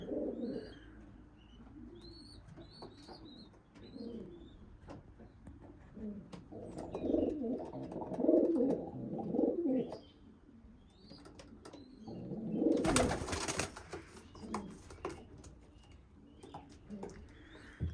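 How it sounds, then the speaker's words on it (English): Racing pigeons coo softly in a loft, low murmuring calls repeating under faint chirps, with a brief burst of wing flapping near the end. "That's a very, very nice bird."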